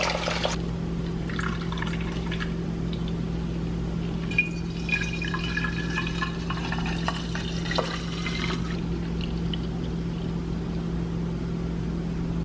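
Green juice is poured through cheesecloth into a big bowl, a steady close trickle and splash of liquid running for several seconds over a constant low electrical hum.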